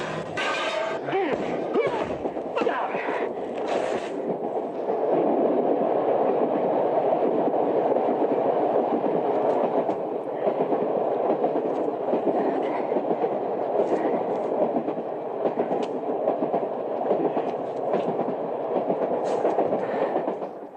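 A train runs on its rails with a steady, loud rumble and rattle of carriages lasting throughout, with some clanking and knocking near the start.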